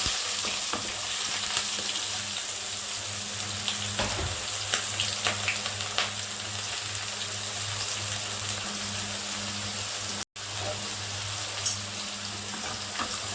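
Onions fry in hot oil in a pan after the tempering has crackled, giving a steady close sizzle with intermittent stirring scrapes and a low background hum, with no voices.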